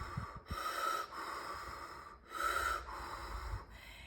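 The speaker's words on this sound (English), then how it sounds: "with your mouth slightly open and deep, and breathing inside and outside in a quite quick and intense way" Rapid, intense circular breathing through a slightly open mouth, deep inhales and exhales in quick alternation; close, breathy rushes in a repeating rhythm, with short pauses between cycles.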